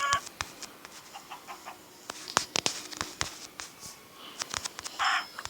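Chickens in Minecraft cluck in short, sharp bursts scattered across a few seconds, fairly faint, with no one speaking.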